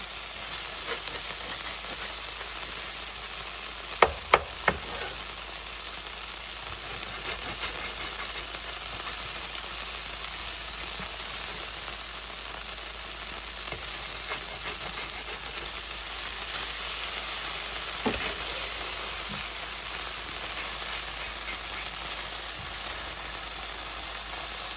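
A quesadilla tortilla with cheese fries in a pan, giving a steady, continuous sizzle throughout, with a few brief clicks and taps near the start.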